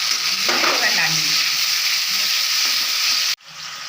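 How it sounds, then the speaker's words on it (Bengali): A mustard and poppy seed paste with tomato is stirred and fried in a pan, ahead of adding pomfret fish. A steady, close sizzle runs throughout, with soft stirring scrapes, then a sudden brief drop near the end. "সর্ষে পোস্ত কষানো হয়ে গেল, নেড়ে নিয়ে"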